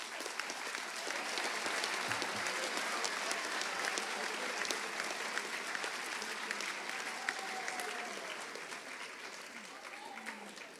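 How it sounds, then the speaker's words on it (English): Sustained audience applause at a middle school awards ceremony, steady dense clapping from a large crowd filling the room for about ten seconds before tapering slightly at the end. "give a nice big round of applause to all of our middle school"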